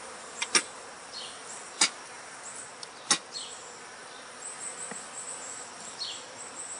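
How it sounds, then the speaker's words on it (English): Honeybees crowding around a released queen bee during a beekeeping session give a faint, soft buzz, broken by a few sharp clicks and taps near the start. "watch the bees react"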